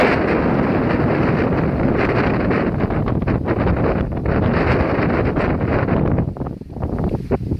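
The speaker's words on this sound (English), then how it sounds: "It is extremely windy on this side of Hump Mountain." Strong wind on Hump Mountain roaring and buffeting the microphone, loud and continuous with brief gusty dips near the end.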